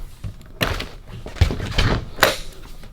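The front door of a competition BBQ trailer is handled outdoors, giving a few close, heavy thunks and a sharp slam-like knock amid light background rustle.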